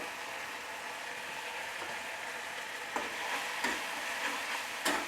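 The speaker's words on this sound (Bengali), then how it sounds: "এটা ভালোভাবে আমি 1 মিনিট আবারও কষিয়ে নিচ্ছি" Cauliflower curry with Kashmiri chili powder sautéing in a pan, a soft steady sizzle with a few sharp clicks of a utensil against the pan, quiet and close, no talking.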